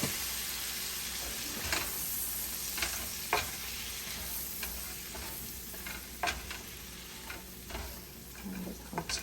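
Filet mignon sizzles steadily in a hot pan with lemon, while sharp clicks and scrapes come as the steak is flipped and moved around. The sound is fairly quiet and continuous, with no talking.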